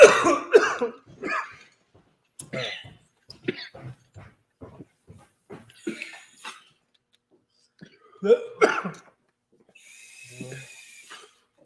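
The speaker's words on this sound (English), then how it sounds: "cover your mouth and not cough right at the camera?" Several harsh coughing bursts up close, spread irregularly over several seconds with short gaps of quiet between them.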